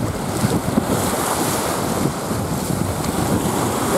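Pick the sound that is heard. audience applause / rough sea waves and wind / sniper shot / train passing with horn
rough sea waves and wind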